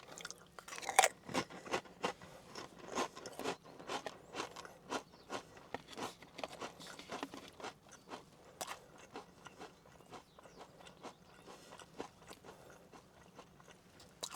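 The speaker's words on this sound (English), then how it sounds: "Sorry about all the chewing." Crunchy Pringles Lite chips in grilled beer brat flavor being chewed close to the mic, a steady run of sharp crunching bites with no talking.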